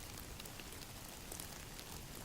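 Soft, steady rain hisses evenly across the whole stretch as a background effect, with no breaks or individual drops standing out.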